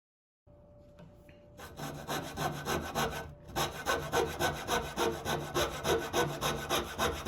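A hand saw cuts wooden tenons for a farmhouse trestle table. The sawing starts as a soft scrape, then settles into loud, close, rhythmic rasping strokes repeating about once a second, with no talk.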